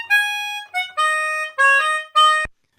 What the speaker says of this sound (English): So remember, this was the sound of my original melodica.